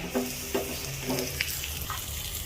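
Hot tempering of oil and spices is poured over patudi and sizzles softly, with a few light clinks and stirring sounds over a low, steady hiss.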